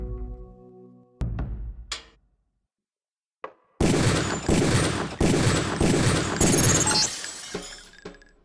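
Rapid bursts of gunfire strike training targets in the Deus Ex training course, loud sharp reports with shattering impacts, following a few isolated shots and brief silences.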